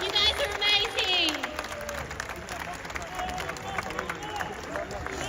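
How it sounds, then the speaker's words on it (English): Scattered applause and cheering from a crowd at an outdoor anti-abortion protest in Sydney, mixed with voices and chatter, moderately loud and fading to a lighter patter. "Round of applause."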